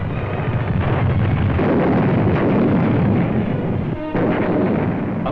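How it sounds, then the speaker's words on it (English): Artillery guns shelling Beveland from across the Scheldt in 1944 wartime footage rumble as dense, continuous booming and roaring, loud and close throughout, with a short dip and crackling burst just past the four-second mark. "From positions across the Scheldt, Beveland is shelled by our guns."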